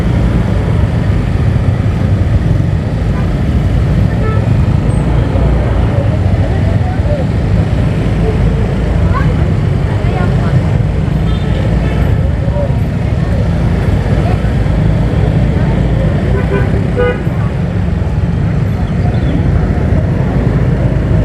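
Busy congested street in Maros, South Sulawesi, with a continuous wash of idling and crawling vehicle engines, close and steady, while a voice talks over it.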